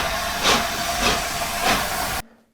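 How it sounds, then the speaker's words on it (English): Steady hissing chuffs from a DCC sound chip in a TT-scale model steam locomotive, three evenly spaced beats over a constant loud steam hiss, close up, cutting off abruptly at the end. "This chip is making about 1 chuff per rotation at slower speeds, and maybe 2 at higher speeds."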